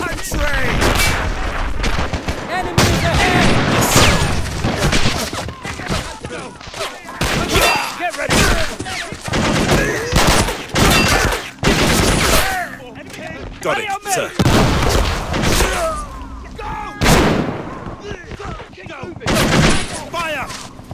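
Battle scene in a war game with repeated volleys of gunfire and booming shots, loud bursts scattered throughout amid shouted voices.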